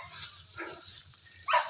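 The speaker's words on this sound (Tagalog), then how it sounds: "Maraming aso." Dogs bark along a rural cycling route, two short, fairly distant barks breaking through a constant high insect buzz.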